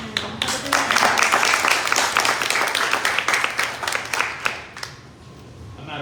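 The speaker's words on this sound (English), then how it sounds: "a round of applause for our speaker tonight" An audience bursts into loud, sustained applause with dense clapping that gradually thins and fades toward the end.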